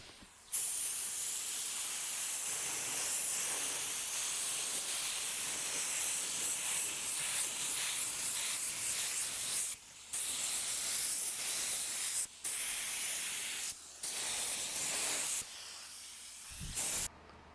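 Spray gun laying down primer coats on a white Chevy Tahoe with peeling paint, a loud steady hiss running in long passes broken by a few short pauses between strokes.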